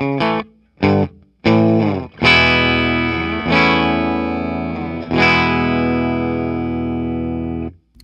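An Epiphone Slash Les Paul Standard electric guitar on the bridge pickup plays a few short, choppy chord stabs, then three loud sustained chords that ring out long with effects before cutting off.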